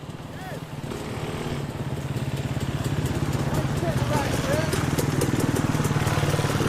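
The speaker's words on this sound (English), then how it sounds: "You can hear some motorbikes or something coming" Motorbikes on a country road make a steady, throbbing engine drone that keeps going for the whole stretch. The sound is fairly distant and somewhat muffled, and it grows a little louder as the bikes approach.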